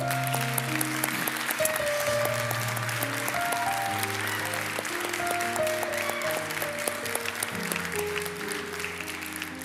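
Church congregation applause at an Icelandic Sunday service after a choir member's solo song, a steady wash of clapping with sustained instrumental tones sounding over it throughout.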